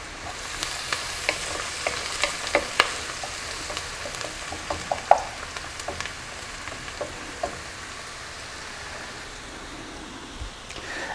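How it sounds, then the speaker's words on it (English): Chopped onions fry in a pan for Persian ghormeh sabzi, seasoned with turmeric. A steady, close sizzle runs throughout, with scattered clicks and scrapes from stirring and no voices. "This is very important when you fry the onions, to make sure that your onions are cooked properly"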